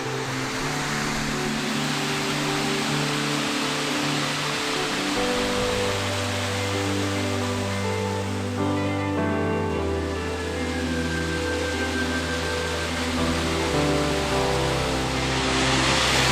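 Middle Falls near Kununurra pours into a big plunge pool, giving a loud, steady, close rush of falling water that holds unbroken throughout with no voices.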